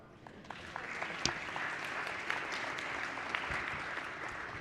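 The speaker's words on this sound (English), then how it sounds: "We can clap for that." An audience in a legislative House floor session breaks into sustained applause, a dense crowd clapping evenly throughout with a few sharper claps standing out.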